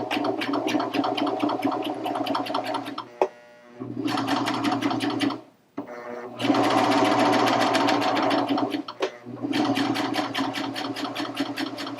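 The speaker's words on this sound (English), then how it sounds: "I'm going to stitch it on, lift up my foot, and I'm just going to serge" Baby Lock Vibrant serger stitching along a fabric edge, its rapid steady mechanical whir running in long loud bursts with brief pauses between runs, close and alone.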